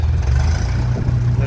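A 1957 Ferguson 35 TVO tractor engine running close up, a loud, steady low-pitched throb as the revs are raised, with no talking over it.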